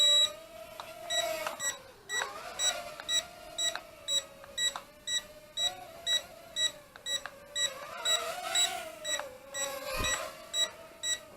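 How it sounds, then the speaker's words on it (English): Short electronic beeps from an Eachine H8 Mini drone controller, signalling headless mode, sound in a regular series over a steady whining hum, fairly close and clear, with no talking. "You get that beep to let you know that you're in headless mode"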